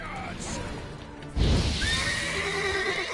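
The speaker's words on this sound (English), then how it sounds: "At least fire makes the horse do things." In The Witcher 3 video game, a horse gives a loud whinny right after a sudden crash-like burst, with a rising neigh trailing off against background game ambience.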